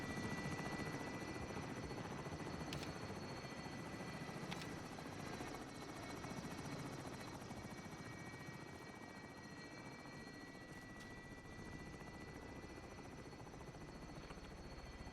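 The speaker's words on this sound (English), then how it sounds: "Helo is coming out with deposit on board." A helicopter in the video game Call of Duty Warzone hovers with a steady, droning rotor hum held at even level throughout, faint and distant with occasional sharp clicks.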